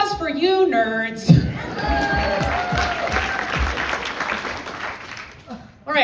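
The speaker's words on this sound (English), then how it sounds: "Round of applause for you, nerds." A sold-out audience gives a round of applause for itself, dense clapping with some scattered laughter and chatter swelling after a speaker's amplified voice and then fading out.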